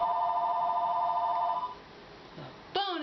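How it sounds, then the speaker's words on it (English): A telephone rings with a steady electronic tone for about a second and a half, then stops, followed by a brief click and a short tonal chirp at the end. "the phone is ringing."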